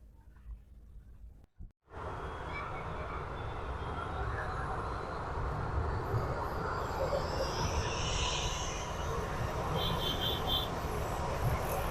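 A passenger airplane passes low overhead near Dhaka airport, its broad engine roar rising and holding loud after a brief cut, with people talking beneath it.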